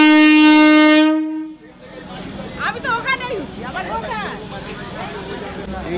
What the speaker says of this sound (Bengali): এই ট্রেনটা চলে যাচ্ছে ক্যানিং এর দিকে